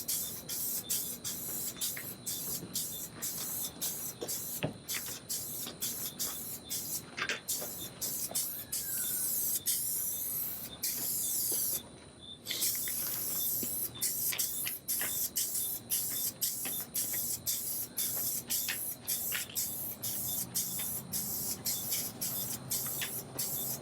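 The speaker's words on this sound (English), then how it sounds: "I'm gonna add some adhesive promoter." A long, steady hiss of spraying adhesive promoter onto a tool box before a Raptor coating, nearby, with a short pause midway and faint ticking throughout.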